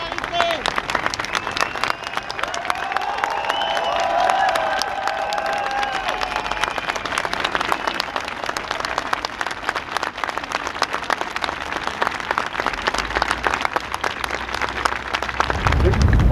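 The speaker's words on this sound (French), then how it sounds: "on vous propose 1 minute d'applaudissements pour vraiment les soutenir" Sustained applause from a crowd at a solidarity gathering in a Paris neighbourhood, dense steady clapping with whistles and cheers rising over it throughout, with voices mixed in.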